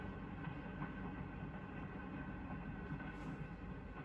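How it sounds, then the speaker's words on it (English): A huge passenger train locomotive sets off slowly through railroad yards, a low, steady rumble with faint rolling clatter, distant and quiet throughout. "The huge locomotive sets the train in motion"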